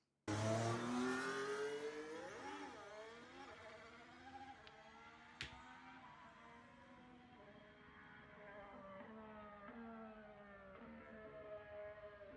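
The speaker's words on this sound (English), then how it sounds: "The Ferrari engine sounds like it's struggling." A Ferrari Formula 1 car at a team car launch event, its engine revving with sweeping rises and falls in pitch and sharp shifts, heard from a distance over a constant crowd and room wash.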